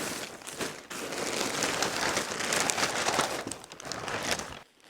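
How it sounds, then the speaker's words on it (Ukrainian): A plastic Shein mail package is torn open and handled, giving a dense, continuous crinkling and rustling close by that fades out at the very end, with no talking. "ось я відкрила пакет"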